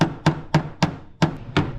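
Six sharp hammer strikes drive nails into wood, evenly spaced about a quarter second apart, close and loud with brief gaps of quiet between blows.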